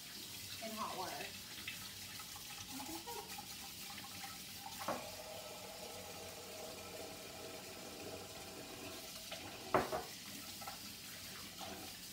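Hot water runs from a tap into a pan left to soak after frying churros, a faint steady splashing stream under soft kitchen clatter, with a couple of brief knocks and a little background speech.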